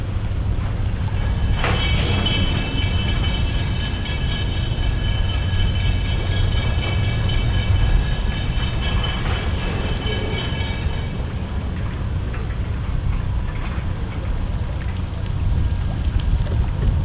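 Roodhouse local freight train crossing the Mississippi River bridge, a steady heavy rumble of rolling cars with a sustained metallic squeal of wheels on the rails running for most of its length.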